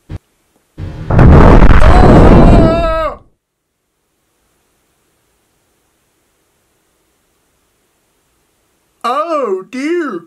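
Sticky bombs exploding on Earth in the video game Solar Smash, with one loud roaring blast lasting a couple of seconds and then silence, before a short burst of tonal game sound near the end.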